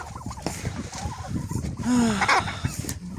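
Turkeys gobble in a rural farmyard where chickens are also kept, with a loud gobbling burst near the middle among scattered clucks and bird calls, and faint talk in the background.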